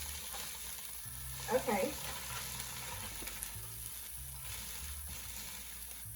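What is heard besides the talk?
frozen peas and carrots sizzling in a pan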